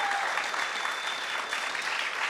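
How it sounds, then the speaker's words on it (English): An audience gives a continuous round of applause at an office hours event, many hands clapping in a steady, even roar from start to finish with no voices over it. "Round of applause, guys. A round of applause."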